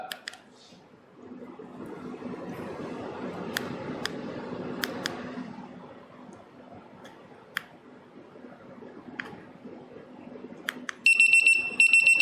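A TPMS tire pressure monitor gives its high-pressure alarm, a short burst of rapid, shrill beeps arriving at the very end after a stretch of quiet handling noise and scattered clicks.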